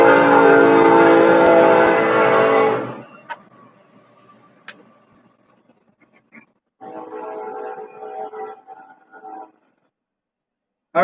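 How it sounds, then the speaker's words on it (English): A train rumbles loudly past for the first few seconds, then fades to a quiet scene with scattered clicks and a later burst of mid-range noise. "There's a train going by."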